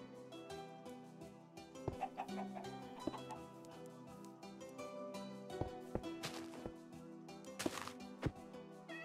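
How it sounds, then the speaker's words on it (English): Chickens cluck in a village-building video game, short soft calls over steady game music with occasional thwacks. "Why the chickens escape?"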